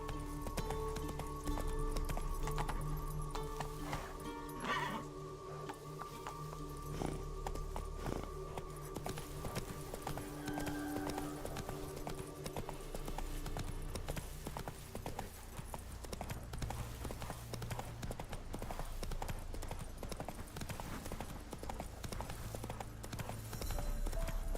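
The horse Roach gallops in The Witcher 3 video game, with rapid, continuous clip-clop hoofbeats heard close up over ambient game sound, and no talking.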